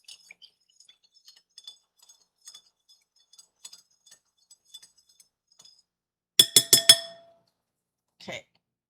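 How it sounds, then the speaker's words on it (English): Dye being stirred in a glass container gives a quick cluster of four sharp, ringing clinks near the end, then one softer clink, after faint light ticks earlier on. "Stir it up."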